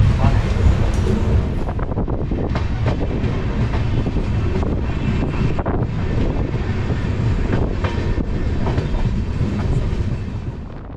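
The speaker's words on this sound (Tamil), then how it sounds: "அப்படியே வண்டி கிளம்ப ஆரம்பிச்சாச்சு." A passenger train pulls out of Rajapalayam station, its loud, dense rumble and rattling wheels heard close up with wind buffeting throughout, and a voice faintly underneath.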